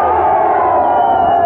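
Steady loud crowd shouting and cheering at the Eicma motorcycle show in 2023, a dense continuous roar of many voices close by.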